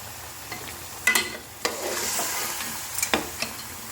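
Beef nihari simmers in water in a pot, a soft bubbling and sizzling bed broken by a few sharp stirring scrapes and knocks against the pot, close and fairly quiet with no talk.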